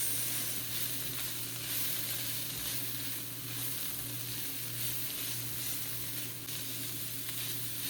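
Capsicum and carrots frying in a pan for street-style veg Hakka noodles, giving a loud, continuous close-up sizzle with a soft stirring undertone and a steady low hum.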